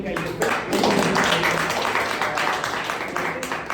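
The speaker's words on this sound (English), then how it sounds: "let's keep the clap going for the 3 amazing speakers of today." Toastmasters meeting audience applauding speakers, a dense wash of clapping filling the room, with a voice talking over parts of it.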